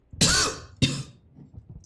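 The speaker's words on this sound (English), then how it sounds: "I still have lingering cough from getting influenza like 3 weeks ago now" A person with a lingering cough after influenza coughs twice, a harsh drawn-out burst followed by a shorter second one, close and fairly loud with quiet room noise after.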